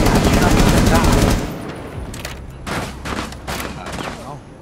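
Gunfire in Rainbow Six Siege, a loud dense burst of rapid shots in the first second and a half, followed by quieter scattered single pistol shots spaced apart over the remaining seconds.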